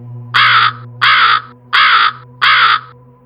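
A crow caws four times in a slow, even rhythm, loud and close, over a faint low hum.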